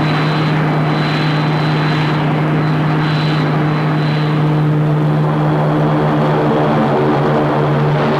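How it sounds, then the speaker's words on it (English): A sci-fi orbit jet spaceship comes in to land with a loud, continuous engine roar and a steady low drone, droning on without a break and swelling slightly toward the end. "The orbit jet is in the process of landing."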